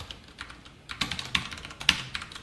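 Quick runs of light, crisp keystrokes on a computer keyboard while code is typed for a Spring Boot Q&A service, close and clear with uneven pauses and no talking.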